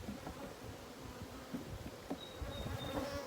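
Honey bees swarm and buzz around an opened, well-populated beehive frame during a hive check, a steady close drone with a few louder passes of individual bees near the listener.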